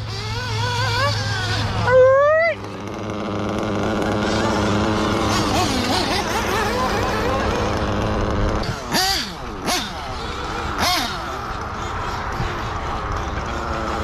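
A nitro RC engine running on Worlds Blend fuel idles low with a buzzing drone, punctuated by a few quick revs; a person talks over it nearby.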